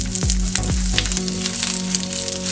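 Half an onion cut into pieces dropping into hot oil, a loud close sizzle with a couple of low thuds as the pieces land at the start, then a steady hiss.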